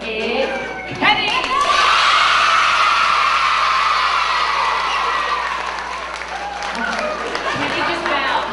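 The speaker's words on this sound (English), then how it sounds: "See if we can make this the biggest round of applause" A school crowd of children bursts into cheering, shouting and clapping for the newly crowned Mr. America at a Miss America visit, a loud sustained roar lasting several seconds before fading slightly.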